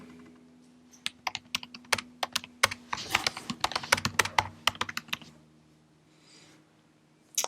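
Computer keyboard being typed on to enter a title, a close run of sharp irregular key clicks for several seconds, then quiet with a final few taps.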